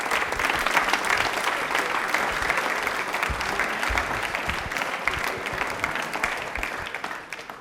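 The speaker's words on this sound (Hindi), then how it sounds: "तालियां एक बार हो जाएं।" A studio audience applauds on a Rajasthani television quiz show, a dense, even wash of clapping that holds steady for several seconds before tapering slightly at the end.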